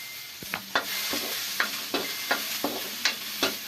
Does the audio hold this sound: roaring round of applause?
no